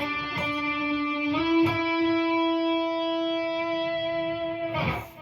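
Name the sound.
electric guitar held note with feedback through Atomic Amplifirebox 2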